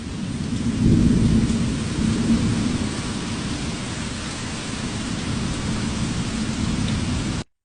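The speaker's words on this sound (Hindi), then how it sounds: "बारिश हो रही है" Steady rain pours outdoors on a stormy day near a dam and park. It makes a dense, continuous hiss with a low rumble underneath that swells slightly early on, then holds even throughout, with no voices.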